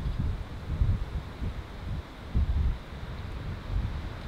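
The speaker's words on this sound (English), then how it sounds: "Sorry about the wind." Gusty wind buffets the microphone outdoors on a Louisiana crawfish trip, in uneven rumbling bursts, rising and falling, with no voices.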